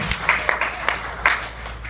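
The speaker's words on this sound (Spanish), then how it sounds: "le damos aplauso fuerte a Él que vive" A church congregation gives loud applause in praise, a brisk patter of many hands with a few sharper individual claps standing out, fairly close.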